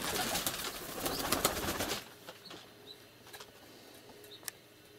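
Pigeons on a windowsill, their wings flapping and rustling newspapers in a dense burst of close scratchy fluttering for about two seconds, then quieter scattered rustles and soft taps.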